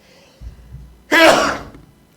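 A single sharp, close sneeze bursts out loudly after a few faint shuffling sounds and then trails off into quiet, heard during a live interactive family consultation broadcast.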